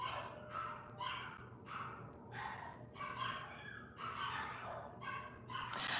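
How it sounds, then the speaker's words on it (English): Several dogs bark in repeated short bursts at a moderate distance, some yips mixed in, over a steady low indoor background hum with no talking. "Do you hear my dogs?"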